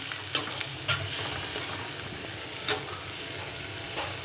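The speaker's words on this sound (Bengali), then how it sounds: "পরিমাণ মতো এখন তরকারিটা আমি কষাতে দিয়ে দিলাম" Curry being sautéed in a pan during Bangladeshi home cooking alongside hilsa fish, a steady broadband sizzle with a few sharp spatula scrapes and clinks, close and moderately loud, no voices.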